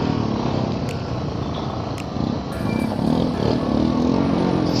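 Motorbike engine climbing an uphill trail toward Okhre View Tower, a loud continuous close drone with slight pitch rises as it labors, mixed with wind buffeting, and a voice partly under it.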